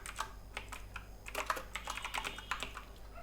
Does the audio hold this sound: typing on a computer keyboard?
yes